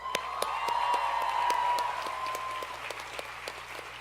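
A commencement crowd at an outdoor ceremony claps loudly for the event staff. The dense applause is mixed with a sustained tone and gradually thins out.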